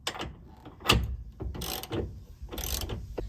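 A half-inch drive ratchet on a six-inch wobble extension with a 21 mm socket tightens bolts for a truck running-board step, giving a few separate clicking bursts with short pauses between them.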